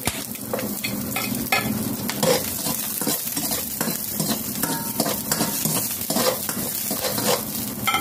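Garlic sautéing in hot oil in a pan, a steady close sizzle with frequent stirring scrapes running throughout, loud and continuous with no voices.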